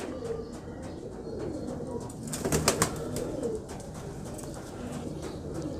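Pigeons coo softly in a loft of fancy pigeons, low rolling calls repeating close by, with a brief louder burst of rustling and chirps midway.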